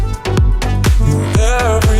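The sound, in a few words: house music track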